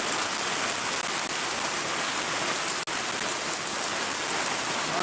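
Heavy rain pouring steadily in Shariatpur, a dense, unbroken roar of drops close by that holds an even loudness throughout, with no voices.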